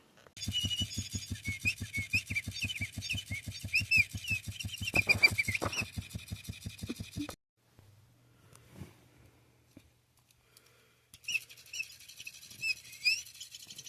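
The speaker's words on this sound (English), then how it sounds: "it's one of those birds that makes noises and it kind of flaps its wings" A toy bird's rapid mechanical flapping whirs under bright electronic chirps for several seconds, stops, then short chirping bursts return after a pause.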